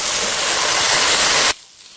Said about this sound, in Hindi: अब मैं इसके अंदर पानी ऐड करती हूँ।